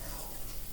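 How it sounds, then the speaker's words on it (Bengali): Chopped onions with turmeric and salt sizzle steadily in a pan while being stirred, a close, continuous frying hiss with no voices. "এবারে ভালো করে এটাকে ভেজে নেব।"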